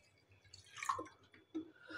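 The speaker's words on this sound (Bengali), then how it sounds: "তো এখন আমি পানি দিয়ে ধুয়ে নেব।" Quiet drips and small wet splashes come from fried mung dal being rinsed in water, a few soft, isolated sounds standing out against near silence.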